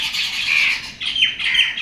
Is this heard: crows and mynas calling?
yes